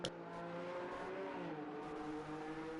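An F1 2019 Ferrari Formula 1 car engine, onboard in the video game, holds a continuous high whine with rising and falling rev tones, fairly faint and steady and free of speech.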